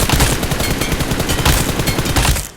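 Rapid scoped gunfire from a mobile shooter video game, a dense, steady stream of loud shots with no pauses, sounding close and continuous throughout.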